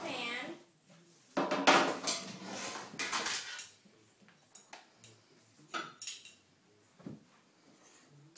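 A greased metal baking pan clattering and clinking as it is picked up and set down on a kitchen counter while making lemon drop scones, a few loud close knocks followed by softer scattered taps.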